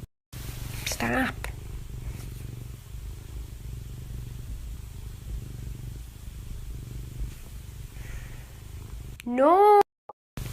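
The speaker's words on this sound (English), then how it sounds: "This person owns an overly aggressive romantic cat." A cat purrs close up in a steady, low rumbling drone that runs for most of the stretch, with a short voice breaking in near the end.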